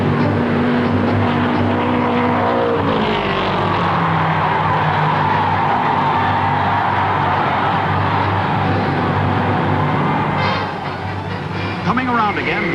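1960 Indy 500 race cars roaring past wheel to wheel, a loud sustained engine drone with pitch sweeps as they pass, fading slightly near the end before another car whines by.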